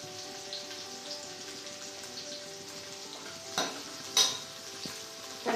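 Onion and green chilli sizzle steadily in a pan on the stove with a soft frying hiss, broken by a couple of louder stirring scrapes near the end; no one talks.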